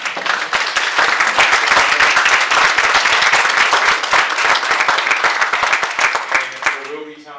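An audience at a nonprofit partnership panel in Seminole County gives a sustained round of applause, many hands clapping loudly and densely before thinning into a few last claps.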